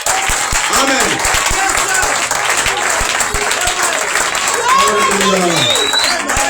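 A church congregation applauds steadily throughout at an opening service of the Feast of Tabernacles, the clapping dense and continuous while a voice speaks and calls out over it.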